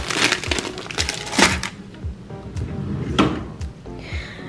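A drawer in a makeup organizer slides open and shut with wooden clatter and knocks as items inside shift and rattle, loud and close, with no talking.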